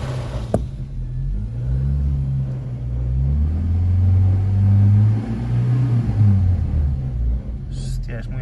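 A Renault 5 Baccara engine idling at a petrol station with a slight vibration, giving a steady low rumble that runs under someone talking throughout.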